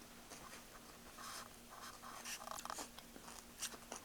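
Crunchy vegetable spring rolls with cilantro and peanut sauce being bitten and chewed up close, a run of irregular crisp crunches and mouth sounds over several seconds.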